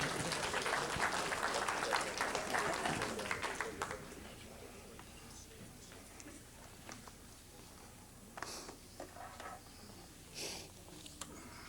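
Audience applause fills a lecture hall during a talk on magnets, water and health: a dense, steady burst of clapping for about four seconds, then fading to a quiet room with scattered small noises.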